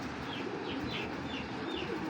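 Soft, repeated cooing of silver pure-breed pigeons over a steady background hum, with faint chirps drifting in at intervals.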